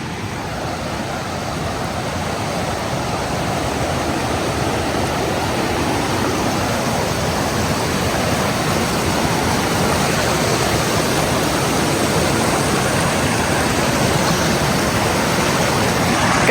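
A river rushing through a canyon at a bear-country campsite, a loud, constant broadband roar of flowing water with no breaks, steady and close throughout, without voices.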